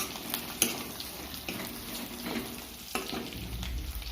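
Pork frying in oil in a pan, a steady close sizzle and crackle with occasional louder pops and spatters, no talking.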